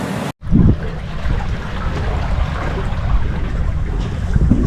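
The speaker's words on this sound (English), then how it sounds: "We've got the sea developed, so we're surfing down the waves a bit." A sailboat flying a full spinnaker surfs down developed following seas, wind rushing steadily over the microphone with a constant wash of water after a brief dropout near the start.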